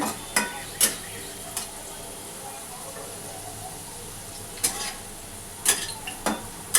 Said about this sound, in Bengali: সেই আলুটা আমি ভাজা বসিয়েছি। এটা প্রায় ভাজা হয়ে গেছে।